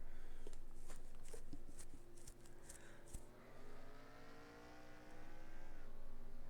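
Stock car engines roar and pass by in a NASCAR racing video game at a New Hampshire oval, a continuous loud engine drone with rising pitch as cars come out of a turn, with no talk.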